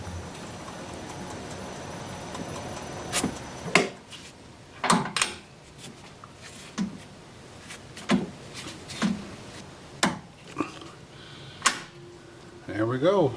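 Apricot wood blank fitted onto a lathe chuck with a woodworm screw: a rising whir at first, then a series of sharp knocks and clunks of wood and metal at uneven intervals, with someone talking in between.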